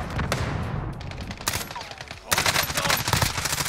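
Rapid bursts of automatic gunfire crackle through a Call of Duty: Warzone match, dense volleys near and far with a brief lull before a louder, sustained barrage.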